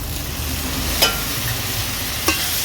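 Okra cooking in a pan with cumin, coriander and chili powders and a splash of water gives off a low, steady sizzle, broken by two brief spatula scrapes.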